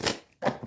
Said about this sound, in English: I'm going to shuffle these a couple of times